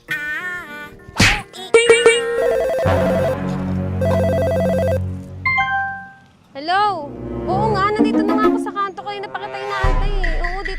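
A cellphone rings with a bright, tonal ringtone in the middle of a busy mix of other sounds and voices.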